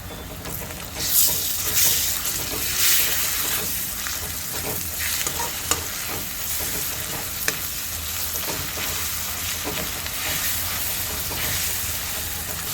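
Ginger garlic paste sizzles in hot oil with golden-browned onions in a pan, village-style cooking for chicken biryani. A steady crackling fry runs throughout, with repeated scraping strokes of a spoon stirring against the pan, and nobody talks.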